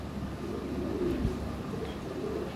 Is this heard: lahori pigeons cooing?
yes